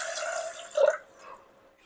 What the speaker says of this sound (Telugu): ఇప్పుడైతే 2 గ్లాస్ వాటర్ కూడా యాడ్ చేసేసుకుంటున్నా